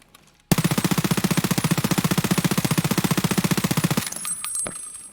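A P90 fires SS190 rounds from a crouched position in Escape From Tarkov, letting out one loud, sustained full-auto burst of rapid, evenly spaced shots for about three and a half seconds. A short mechanical rattle follows.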